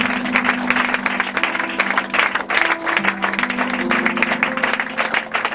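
A church congregation bursts into loud, sustained applause, a dense wash of clapping that carries on without a break and fills the room, with a few faint voices mixed into the crowd.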